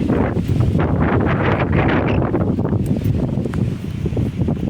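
Strong gusts buffet the microphone on a trail near Sai Wan Village, Hong Kong, a loud low rumbling roar that stays steady for a few seconds before easing slightly.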